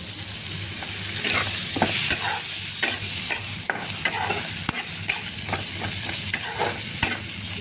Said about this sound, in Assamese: এতিয়া বিলাহীখিনি ঢালি দিম।